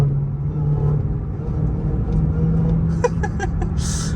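A Dodge Hellcat cruises in noon traffic, giving a steady low engine rumble and drone from inside the cabin with a faint whine on top, then a brief knock and a burst of hiss near the end.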